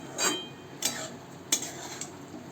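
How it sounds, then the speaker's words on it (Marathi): Kolam rice being stirred and mixed into sautéed vegetables in a pan, giving a few scraping, clinking spoon strokes at irregular intervals against a soft sizzle, close and moderately loud. "तांदूळ टाकल्यानंतर व्यवस्थित सगळीकडून मिक्स करून घ्यायचं"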